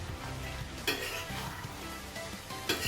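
Chicken pieces sizzle and fry in thick gravy in a pan, a constant close crackle broken by a few scraping stirs of a spoon against the metal.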